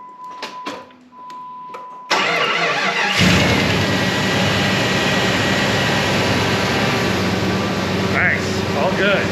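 A 1997 Jeep Grand Cherokee ZJ with a newly installed fuel pump cranks briefly and then starts, settling into a loud, steady idle close by after a few quiet knocks and a faint tone.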